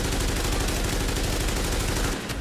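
Loud, dense automatic fire from an AK and an SMG in the shooter game The Division, a continuous rapid hammering that barely pauses before tailing off at the very end.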